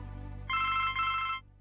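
A telephone rings once in the Blackwell Legacy video game: a single bright electronic trill lasting about a second over a low steady hum.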